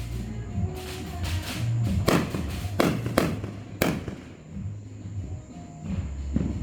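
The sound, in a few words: backyard fireworks exploding on 4th of July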